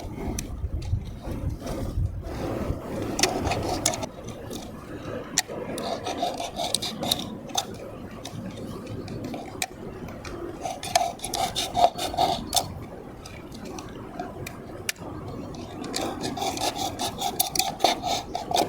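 A blade scrapes and rasps repeatedly while cutting short slits into the material of a homemade crab trap, close and uneven, with sharp clicks and knocks scattered among the strokes and no talking.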